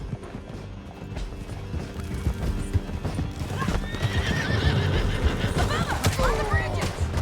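Horses in Red Dead Redemption clip-clop at a gallop down a canyon, hooves drumming steadily and growing louder, with a sharp whinny near the end and shouting voices mixed in.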